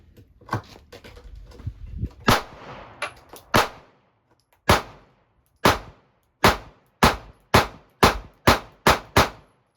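Sharp pistol shots from a Sig Sauer P365 or Springfield Armory Hellcat fired offhand, about fifteen loud close reports, quick and irregular at first, then spaced in a steady, evenly paced string.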